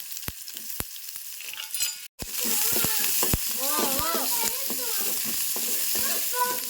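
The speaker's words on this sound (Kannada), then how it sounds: "ಉಳ್ಳಾಗಡ್ಡಿ ಮೆಣಸಿನ್ಕಾಯಿ ಒಂದು ಸ್ವಲ್ಪ ಫ್ರೈ ಆಗುತ್ತೆ" Chopped onions and green chillies frying in hot oil for a potato palya, a steady close sizzle that stays loud throughout, with a brief dropout and a voice speaking over the hiss.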